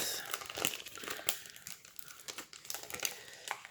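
Sheets of Rosie's Studio stickers being handled up close, soft crinkling and papery rustles in quick irregular bursts, quiet overall.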